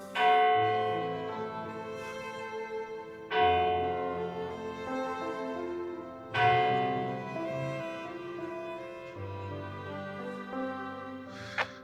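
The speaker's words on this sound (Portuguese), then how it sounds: "Tá bonito os sinos tocando agora, muito bonito." Church bells ring at Santa Barbara mission, three loud strikes spaced a few seconds apart, each leaving a long, rich, shimmering ring that decays between strokes with no voices over it.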